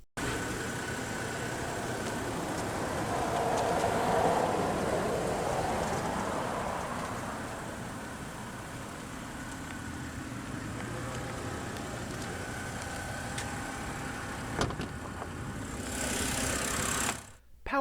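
A 2011 BMW 328i sedan's N51 3-liter naturally aspirated inline-6 idles after start-up, a steady close engine hum with a slight swell early on, a brief sharp click near the end, and no speech.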